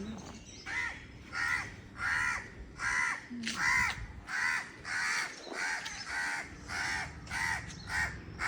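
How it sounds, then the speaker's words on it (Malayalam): A crow caws repeatedly in a garden compound during a summer rain, roughly a dozen loud, harsh calls in a steady rhythm, close by, with no talking. "ഈ കാക്കി ഒന്നും മിണ്ടാണ്ടിരിക്കാവോ?"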